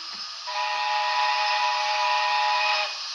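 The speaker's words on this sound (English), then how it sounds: "is a lovely steam chime whistle," A Hornby A4 Sparrowhawk model steam locomotive's DCC sound chime whistle blows one steady, bright multi-tone blast of about two and a half seconds, with airy hiss, loud and close.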